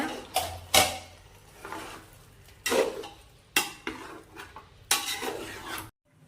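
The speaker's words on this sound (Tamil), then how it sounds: "இடையில எடுத்து கிளறிக்கோங்க, ஏன்னா அடிப்பிடிக்காம இருக்கணுன்றதுக்காக" A spoon stirs chicken for dum biryani, made with three-quarters of a kilo of chicken and simmering in a metal pot. Close, irregular clanks and scrapes sound against the pot, about six distinct knocks with quieter scraping between them.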